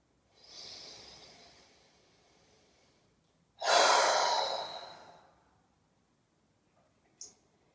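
Breath pushed out through the mouth during a yoga routine, a soft airy exhale first, then a louder, sharper whooshing exhalation, and finally a brief faint click, all near and alone in a quiet room.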